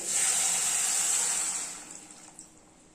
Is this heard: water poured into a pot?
yes